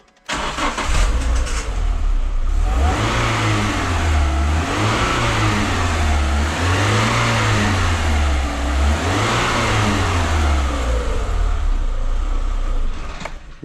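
A Renault Clio 182 fires up after a timing belt and dephaser job, then revs repeatedly in smooth rising and falling sweeps over a settled idle, loud and close.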